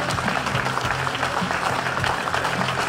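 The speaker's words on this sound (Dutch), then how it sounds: "En gaat uiteraard nu een oorverdovend applaus losbarsten." Steady, dense applause from a large crowd at the ZLM Tour 2015 cycling podium honouring André Grijpel, sustained and even throughout with a few faint voices mixed in.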